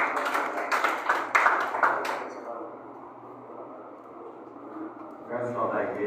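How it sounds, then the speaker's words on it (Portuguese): A church congregation claps in quick, rhythmic unison during an evening service. The joyful clapping lasts about two seconds, then gives way to quieter room sound and a voice. "Bem alegre as palmas para Jesus."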